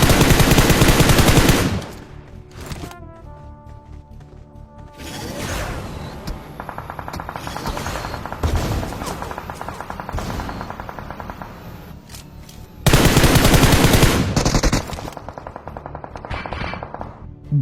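Bursts of rapid automatic gunfire ring out in loud sprays in the game Free Fire, separated by quieter stretches with scattered shots and game sounds.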